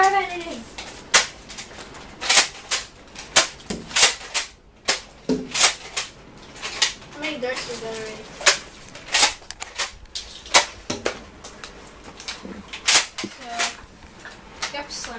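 A Nerf N-Strike Alpha Trooper blaster fires foam darts in a rapid series of sharp, close plastic snaps and clacks, with some shots coming in quick slam-fire bursts.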